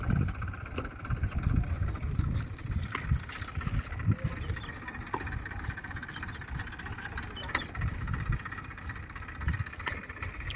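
A tractor engine runs steadily while hauling a fishing net across a fish pond at Gudivada, a rough mid-range drone with uneven knocks and rattles in open air.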